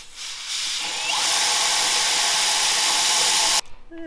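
An air blower blasting out parts in a shop, a loud broadband hissing rush that builds over the first second, holds steady, then cuts off abruptly.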